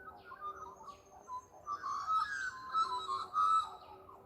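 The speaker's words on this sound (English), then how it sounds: "that's actually the noise of a kookaburra, and that's actually a kingfisher" Outdoor morning birdsong with kookaburra and kingfisher calls and magpies nearby: repeated chirps and whistled notes rise and fall across several seconds, fairly faint against a quiet background, with no talking.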